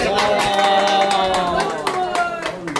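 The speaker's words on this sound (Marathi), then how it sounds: "टाळी वाजव" Hand clapping from a group at a Marathi Warkari pilgrimage gathering, steady repeated claps under a chanting, talking crowd.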